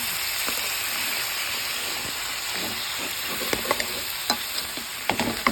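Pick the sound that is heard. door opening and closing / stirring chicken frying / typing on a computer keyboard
stirring chicken frying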